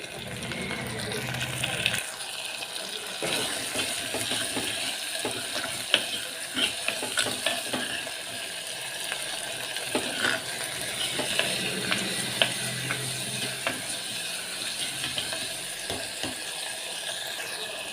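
Tomatoes and onions fry in a clay pot for a bottle gourd gravy, giving a steady soft sizzle with scattered scraping stir strokes throughout, moderately close and without speech.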